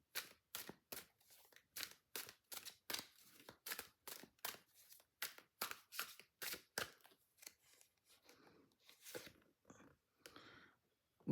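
Tarot cards are shuffled by hand in quick, crisp riffles and snaps, a fast run of sharp clicks that slows near the end. The sound is faint and close, with no talking.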